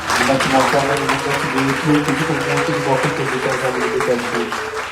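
A worship congregation acclaims God with raised voices and clapping, a full, steady wash of cheering and sung tones with rhythmic claps mixed in.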